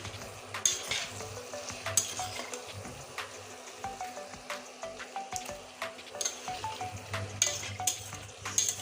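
Soybean and potato curry with spices sizzles in oil as a spatula repeatedly scrapes and taps the pan in a steady rhythm, close and moderately loud.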